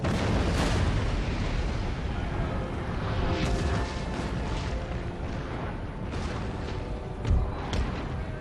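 Battlefield cannon fire in Empire: Total War, with a dense, continuous rumble of booms and blasts, several sharper reports standing out, and one louder close shot near the end.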